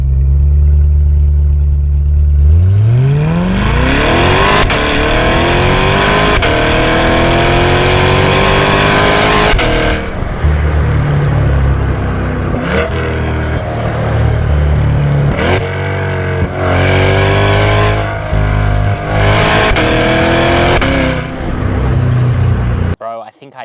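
A 2025 Chevrolet C8 Corvette accelerates hard, its exhaust note climbing steadily through the revs before a series of gear changes brings repeated rising pulls, loud and close throughout.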